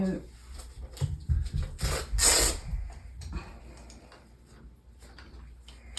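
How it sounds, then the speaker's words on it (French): Part of a SOMI corset brace being unscrewed: close, dry rubbing and scraping with small ticking clicks, loudest in the middle, then trailing off into quieter fiddling. "Ok, donc on dévisse ici."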